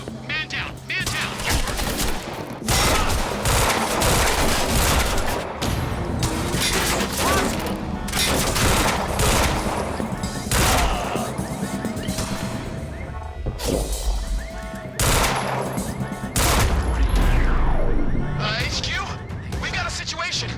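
Heavy gunfire in the action game Quantum Break: loud, dense bursts of automatic shooting and sharp shots that sweep across the whole stretch, with shouted voices mixed into the barrage and a brief lull midway.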